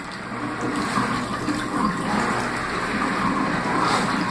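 Water drains from a mini automatic washing machine and splashes into a sink, a steady rushing, gurgling flow at close range that lasts throughout.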